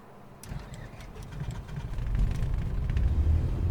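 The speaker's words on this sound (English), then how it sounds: "let me go ahead and get our engine started" A light aircraft engine cranks and catches, rising from a soft start into a steady, growing idle rumble with a few clicks at the outset.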